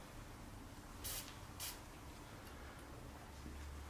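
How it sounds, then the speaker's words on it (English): Grease is sprayed onto the pedal thread of a Cyclotricity eBike in two short, quiet hissing bursts about half a second apart, followed by near silence. "spray some grease on there to stop it seizing into the crank arm"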